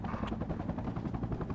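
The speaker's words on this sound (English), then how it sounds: "Get big helicopter, warm it up." Big transport helicopter in the Project Reality military game, warming up on the Silent Eagle map; a dense, steady rotor and engine rumble fills the clip with rapid chopping pulses, close and constant.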